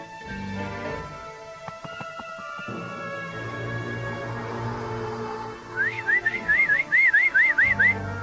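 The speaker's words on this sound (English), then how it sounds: "Couple of whistling monkeys," Whistling monkeys on an island in a cartoon, rising and falling chirpy whistles repeated rapidly near the end, loud and close, after a stretch of musical background.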